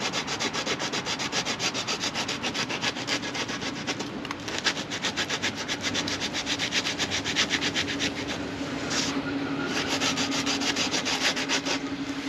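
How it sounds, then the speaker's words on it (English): Sanding a roof panel inside a Sprinter van: a continuous, close abrasive rubbing that keeps a steady rasping rhythm throughout, with no voices. "we'll be able to sand off hopefully any sections like this"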